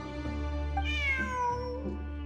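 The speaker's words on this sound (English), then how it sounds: "Who's a good kitty?" A cat in the Genshin Impact video game gives a single drawn-out meow with a rising then falling pitch, clear and close over a low steady game background.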